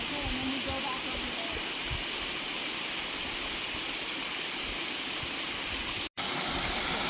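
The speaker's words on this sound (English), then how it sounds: "Just more waterfalls." A waterfall on the Appalachian Trail near Mount Moosilauke gives a constant, loud broadband rush of falling water that holds steady throughout, with a brief cut near the end.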